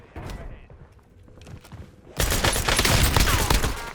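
Video game weapon fire starts with scattered clicks and shots under a speaking voice, then erupts halfway through into a loud, continuous barrage of rapid gunfire.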